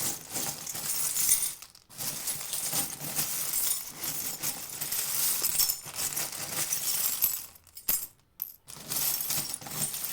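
Small divination charms clink and tinkle together as they are handled and shaken, a bright continuous jingle with a few brief pauses, close and moderately soft.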